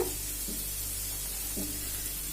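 Finely chopped onions and slit green chillies with curry leaves sauté in oil for an egg dish, giving a steady, even hiss of frying with a couple of faint stirring touches.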